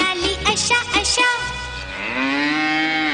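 A cow gives one long, drawn-out, low moo that swells and holds steady, after a short busy vocal and musical passage.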